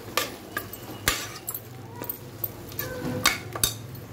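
Chilli and turmeric powder frying in a pan for prawn biryani, with a spoon scraping and clinking against the metal in irregular taps over a faint sizzle.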